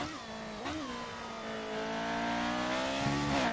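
A classic McLaren Formula 1 car in F1 2018 screams through its gears, the engine note climbing steadily with brief dips at each upshift, loud and continuous throughout.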